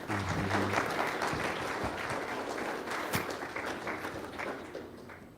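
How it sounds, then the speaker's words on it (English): Conference audience at a cybersecurity summit applauds steadily as panelists come to the stage, a dense, even wash of clapping with a few louder claps and thumps. "Please welcome them with a round of applause"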